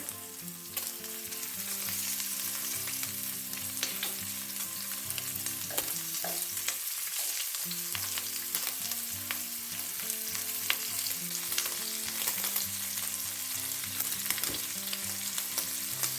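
Chorizo sausage sizzles and fries steadily in a dry pan with no added oil, a dense crackling hiss throughout with occasional scrapes and clicks as the pieces are turned over.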